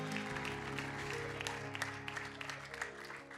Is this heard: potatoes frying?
no